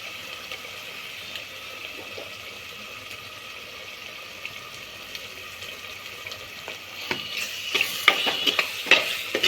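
Ginger garlic paste sizzling in a fish curry pan with onions frying, a faint steady hiss that grows livelier toward the end with sharper crackles and spatula stirring.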